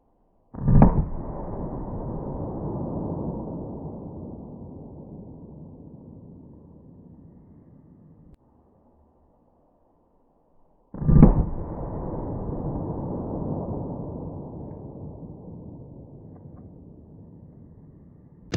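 Two loud, sharp 9mm gunshots fired into a gel test block, each a sudden crack followed by a long decaying echo, spaced about ten seconds apart with a quiet gap between.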